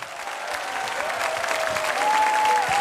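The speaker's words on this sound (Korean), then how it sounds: "시상이 진행될 때 큰 박수 함성 부탁드립니다." A church congregation applauds during an award ceremony, a steady wash of clapping hands that swells slightly louder toward the end, with a faint sustained tone running beneath it.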